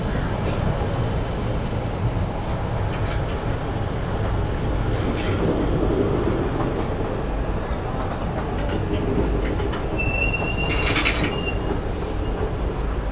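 A passenger train in India with all classes of coaches on the Manmad route during a monsoon journey, a loud continuous rumble of wheels and carriages with a metallic squeal rising near the end.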